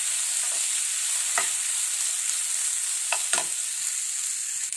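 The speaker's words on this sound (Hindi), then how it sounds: "चावल को फ्राई कर लेंगे।" Boiled rice frying with tomatoes in a pan over medium flame, a constant loud sizzle with a few brief scrapes of stirring, no voices.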